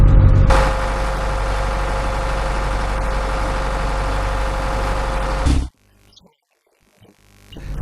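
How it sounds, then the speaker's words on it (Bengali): A fishing trawler's engine runs on a river in the Sundarbans, a loud, steady low rumble that holds for about five seconds, then cuts out abruptly to near silence before faint noise returns. "এই ট্রলারের ইঞ্জিন সম্পর্কে সব বোঝেন?"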